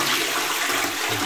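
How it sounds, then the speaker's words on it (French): A toilet flushes in one loud, close rush of water that holds steady throughout, with no talking. "on tire la chasse d'eau."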